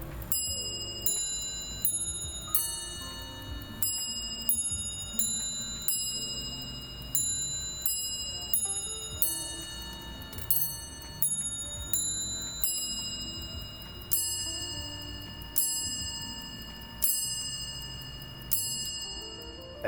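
Bell tones of a Westminster chime ring from a Tellurium clock, a sequence of clear, evenly spaced struck notes each decaying before the next, close and moderately loud with no voices.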